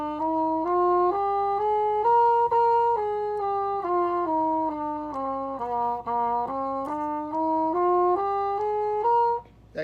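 A wind instrument plays blues scales in clean, sustained notes stepping up and down in an even rhythm, one tone after another, clear and alone with no talking.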